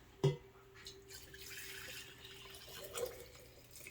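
Strained homemade chocolate tea made from cocoa is poured, a brief splash followed by a thin, steady trickle of liquid lasting a couple of seconds, fairly quiet and close, ending with a small clink.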